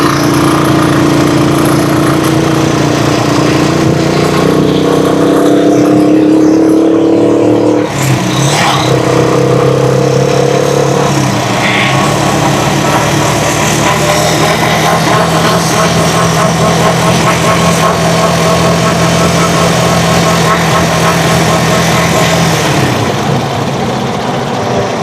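A Rusi Chariot 175 motorcycle, loaded with ten water containers, labors uphill with a continuous loud engine drone and steady low hum, its pitch shifting slightly with load for the full stretch.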